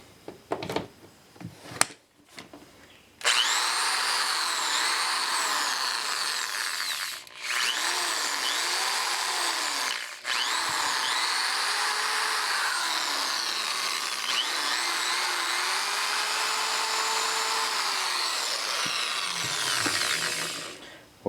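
After a few handling clicks, a power tool with a newly replaced cord whirs loudly and close for most of the stretch, its pitch wavering slightly, with two brief dips where it cuts out and restarts.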